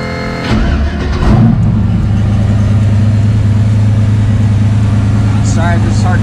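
Truck engine cranked and fired up after a turbo back pressure sensor install, a short start burst settling into a steady low idle rumble, close and loud, with a voice speaking over it.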